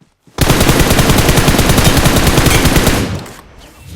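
Sustained automatic gunfire in the mobile battle royale game BGMI, one loud continuous burst lasting about three seconds before cutting off.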